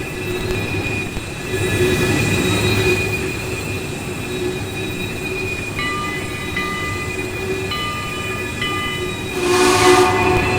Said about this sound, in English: I will say the squealing can get a little bit old because it's constant.